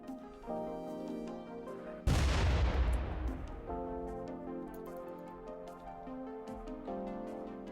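A mortar fires in RimWorld with one loud, sudden boom that decays into a long rumbling tail, set against steady game music that runs before and after the blast.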